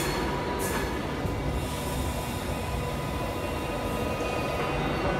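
A London Overground train pulls into a station with a steady, broad rumble of wheels and motors throughout, close and fairly loud, with faint squeals above it.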